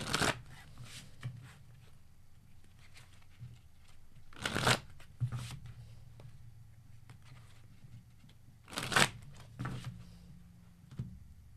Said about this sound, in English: Let's pull out these cards.